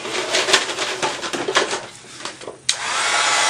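Heat tool melting clear embossing powder, a close, loud steady blowing whoosh that wavers and dips briefly before a knock, then resumes as an even rushing hiss, with no talk.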